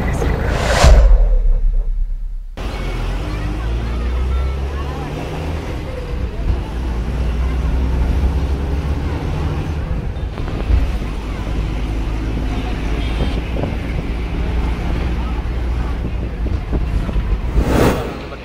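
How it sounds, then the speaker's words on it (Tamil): A passenger jetty boat on the Alappuzha backwaters in Kerala, heard as a continuous low engine drone with rushing wind and water noise. A sharp gust hits the microphone near the start and again at the end. "இது ஜெட்டி போட்."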